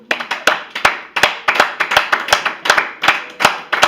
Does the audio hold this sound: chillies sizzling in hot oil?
no